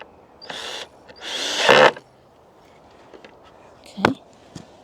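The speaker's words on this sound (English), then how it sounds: "just making sure it's screwing into something" Power drill driving screws into wood at an allotment, two short whirring bursts with the second longer and louder, followed by a few faint knocks and clicks nearby.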